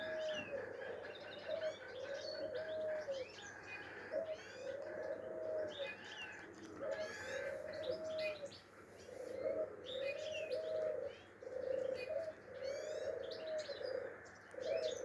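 Pigeons coo in repeated soft phrases while smaller birds chirp and tweet overhead, a steady outdoor chorus with no talking.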